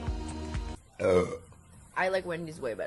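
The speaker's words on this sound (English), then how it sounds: "I'm gonna burp." Close, low human burp sounds in short bursts, with a voice speaking over part of them.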